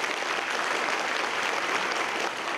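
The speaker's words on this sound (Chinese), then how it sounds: "掌声欢迎他们出场。" An audience applauding to welcome two performers, a microtia-born opera singer and a visually impaired violinist, onto a stage; dense, even clapping held steady throughout, fairly soft in level.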